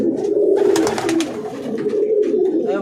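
Tournament racing pigeons cooing close by in a steady, throaty, rolling murmur that continues without a break for a few seconds.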